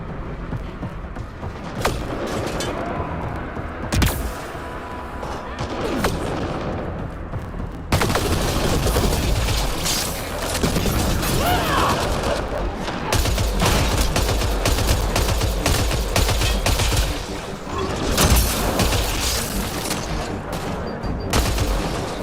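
Sustained gunfire in the shooter Mass Effect Andromeda, dense and loud, with rapid bursts, single shots and occasional heavier booms overlapping continuously throughout.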